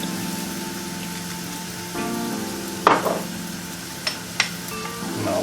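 Olive oil sizzles steadily in a frying pan previously used for cooking onions, a soft continuous hiss with a few sharper crackles and pops near the end.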